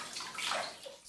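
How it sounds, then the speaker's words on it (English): Water runs steadily from sinks torn off the wall in a vandalized school, a close, continuous gushing splash that eases off slightly toward the end. "This cell phone video shows the water still running."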